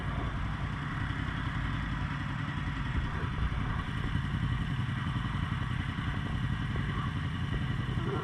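A motorcycle engine idles just after a rolling burnout, a steady low, uneven rumble with faint clatter, heard alone at moderate distance.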